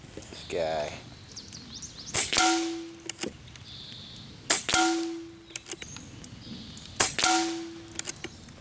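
An Airmaks Arms Katran Long air rifle fires three sharp, close shots a couple of seconds apart, each followed by a ringing metallic ping from the target, with a voice talking briefly before the first shot.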